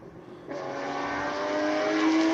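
A classic Porsche racing up a hill-climb course, its engine note rising in pitch and growing louder as it accelerates toward the listener.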